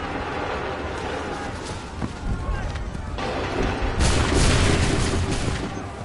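Musket volleys in Assassin's Creed 3 boom in loud, rolling bursts. The heaviest blast comes near the end, with shouted commands mixed in around it.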